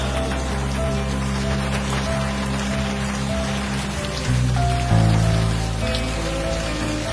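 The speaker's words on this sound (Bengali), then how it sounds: "কি যে বৃষ্টি শুরু হয়েছে না।" Heavy rain pours in a steady, dense hiss throughout, loud and continuous with no voices.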